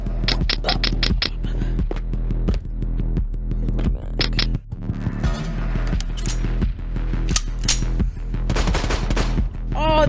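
Sharp gunshots in the VR shooter Hit Contracts, fired as rapid single shots and short bursts over about ten seconds, each crack punchy and close against a low steady hum, with no talking.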